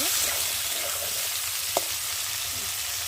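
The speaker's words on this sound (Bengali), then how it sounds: "ভালো করে নেড়ে দেবো," Potatoes sizzle steadily in a pan while being stirred, a constant crackling hiss with a single sharp scrape or clink of the utensil partway through.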